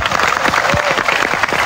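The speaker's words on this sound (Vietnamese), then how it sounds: "Vậy thì chúng ta hãy dành một tràng pháo tay cho bạn Duy của chúng ta." Studio audience applause on a Vietnamese television game show, a steady dense patter of clapping filling the whole short stretch at moderate loudness, with no voices over it.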